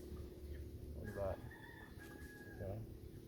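Chickens in a rural provincial yard, with a brief rooster-like call and soft fowl sounds, faint and distant beneath low background noise and a nearby voice.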